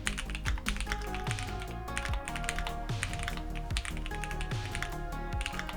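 Steady fast typing on a stock Keychron mechanical keyboard with brown switches, a dense run of close, crisp key clacks with small rhythmic bursts and no voice over it.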